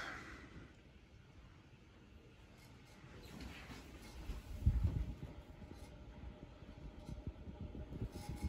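A 1981 Casablanca Victorian ceiling fan in brass and copper, its bearings worn, spins with a soft, steady mechanical whir and a low, uneven rumble from its wobble. The sound grows somewhat louder partway through.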